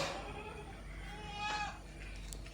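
A mother goat kept with her kid, offered for sale near Manjeri in Kerala, gives a faint, brief bleat over a steady low background hum.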